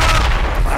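A grenade explodes in the military shooter game Project Reality, a loud, dense boom that fills the whole short moment with heavy low rumble and no clear break.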